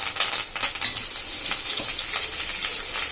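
Mustard seeds and curry leaves fry in a hot pan with a loud, crackling sizzle. Quick popping bursts rise over the steady hiss, close by, with no voices.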